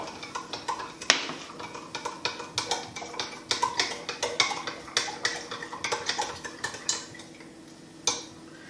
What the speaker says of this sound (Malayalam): അതിനുശേഷം ശരിക്ക് ഇളക്കുക